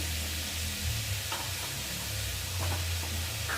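Potatoes frying in a pan until reddish-brown, a steady close sizzle and hiss running throughout with faint occasional stirring, no voices.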